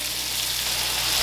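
Ground paste for butter chicken hits hot oil and sets off a dense, loud, continuous sizzle and crackle that stays close throughout.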